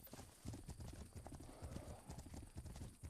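A horse in a video game trots with quick, rhythmic hoof clip-clops, close and fairly soft, with a brief whinny-like note mixed in.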